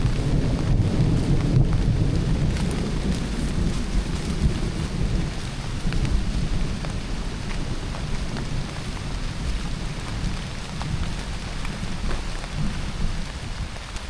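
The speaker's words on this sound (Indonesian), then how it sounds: "dapat hujan." Heavy rain pours steadily while thunder rolls and rumbles low underneath, a dense continuous wash of drops with deeper swells of thunder, loud and close with no voices.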